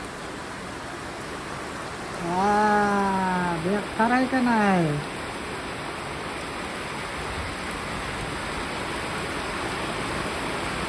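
Heavy monsoon rain pours steadily outside a village house, a dense hiss that runs throughout while a person speaks briefly over it.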